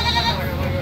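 A goat bleating at a livestock market, one short wavering bleat heard close and fairly loud with a person talking over it.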